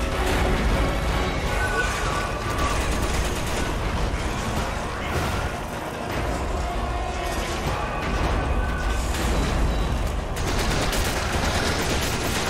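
Rapid gunfire bursts and explosive impacts from the video game Resident Evil 5 during a fight, dense and loud with game noise layered throughout, while someone talks over it.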